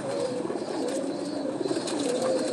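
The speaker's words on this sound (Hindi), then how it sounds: "अब मैं आपको कबूतर दिखाता हूँ।" Soft, continuous cooing from nearby pigeons, a low rolling murmur without pauses or voices, as one bird is held up in the hand to be shown.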